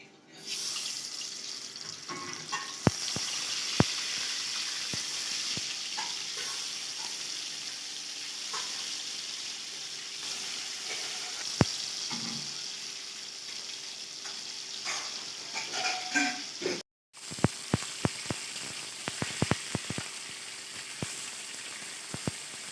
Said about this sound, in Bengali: আমরা মাছটাকেও ভেজে নিচ্ছি সামান্য পরিমাণে সরিষার তেল দিয়ে দিতে হবে